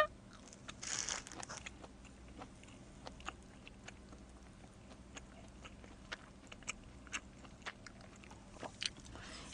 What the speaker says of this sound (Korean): 입 벌리면서 쩝쩝거리더라고?